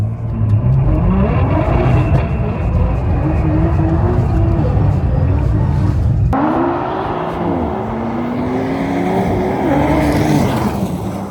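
Audi RS5, BMW M3 and Nissan GTR drag racing on an ice track, with loud engines straining and revving in rising and falling gear tones, sustained and close throughout, cut midway by a shift in the engine note.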